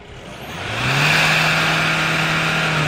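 A fifth-generation Land Rover Discovery revs hard during an exhaust smoke test. The engine note climbs steeply and then holds at a loud, steady high pitch, close by and with no talking.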